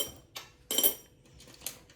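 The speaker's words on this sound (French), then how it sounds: "je m'excuse d'avance pour le bruit des pièces" Coins clinking as they are handled, a few sparse metallic chinks and jingles, close and fairly quiet with brief pauses between them.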